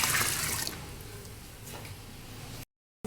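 Water splashes into a cooking pot holding soaked grains and lentils for deghi haleem, a loud rush at first that settles into a steady pour and then cuts off abruptly.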